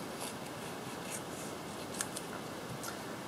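Scissors cut around paper tags for a junk journal booklet, giving a few soft snips and crisp paper rustles over a quiet hiss, close and without speech.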